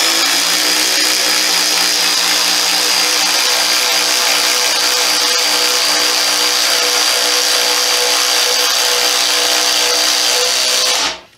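A Ryobi impact driver on setting 3 drives a large fastener, giving a loud, continuous rattling hammer-whir for about eleven seconds before stopping abruptly, with no talking.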